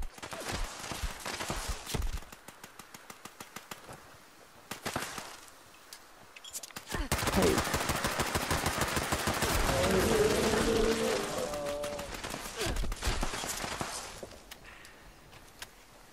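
Gunfire in Fallout 76 comes as sharp bursts of automatic shots in several clusters, with a sustained noisy stretch in the middle and quieter gaps between volleys.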